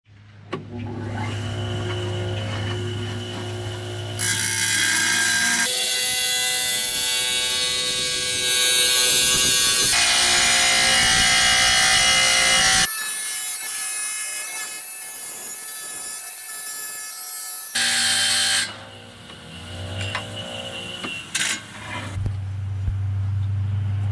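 A power saw grinds steadily through ceramic tile for a long stretch, cutting off an edge, its pitch shifting as the cut progresses, with brief pauses and restarts.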